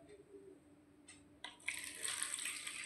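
Water is poured into a bowl in a home setting, starting as a soft trickle and swelling into a steady, close splashing rush that fills the rest of the moment.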